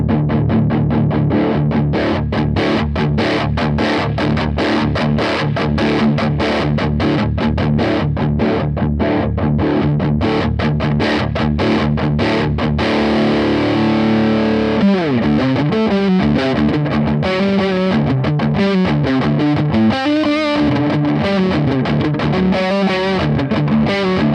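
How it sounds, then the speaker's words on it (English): Electric guitar played one-handed through a Blackstar Studio 10 EL34 valve amp, heavily distorted palm-muted chugging in rapid rhythmic bursts, the tone swept from dark to bright, loud and alone. "I will do a bit of like one-handed chugging, and I'll turn the tone all the way down, turn it all the way up"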